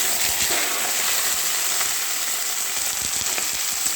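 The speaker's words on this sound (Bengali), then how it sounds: "এরপরে বেগুনগুলো ভাজছি" Aubergine pieces fry in hot oil in a pan, giving a steady, close, even sizzle with faint crackles and no talking.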